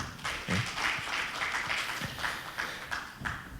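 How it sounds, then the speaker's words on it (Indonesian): Church congregation applauding during a sermon, a soft, diffuse wash of many hands clapping at some distance, fairly quiet and steady throughout. "Tepuk tangan dulu dong."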